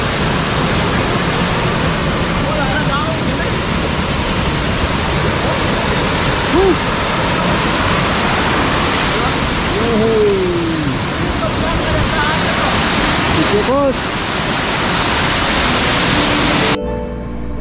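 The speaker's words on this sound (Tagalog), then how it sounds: "Ang tanawin at tunog ng bumubuhos na tubig ay maaaring magdagdag ng kabuang kagandaan" A waterfall at Carmen in Baguio District, Calinan, roars with loud, continuous rushing water close by, a dense, steady wash with faint voices now and then underneath.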